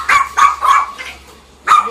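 A two-month-old chihuahua puppy in a little coat gives four sharp, high yips in a quick uneven series, close and fairly loud, with a short pause before the last one.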